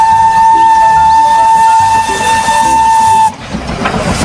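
A toy train's steam whistle sounds as a loud, steady, high tone for about three seconds, then stops abruptly and leaves a hissing, noisy background.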